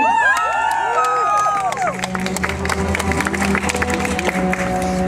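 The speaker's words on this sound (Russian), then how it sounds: "Аплодисменты." A crowd claps and cheers at a wedding registration ceremony, with whoops and chatter layered over steady applause that carries on throughout.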